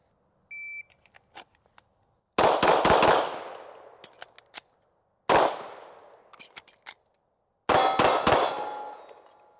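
Kimber 2K11 Pro 4-inch pistol fired in three quick bursts of sharp, loud shots with metallic clangs off steel targets, separated by pauses and a few faint clicks of reloading.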